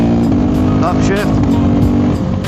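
A KTM Duke 390 motorcycle engine revs hard and makes a quickshifter clutchless upshift without a pause, its pitch dropping briefly before climbing again.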